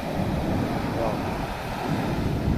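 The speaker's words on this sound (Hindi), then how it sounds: "ये लहरें उठती हैं, बड़ा मज़ा आता है।" Ocean waves surge and wash up onto an island shore, a steady, loud broadband roar of surf with wind noise on the microphone, continuous throughout without a break.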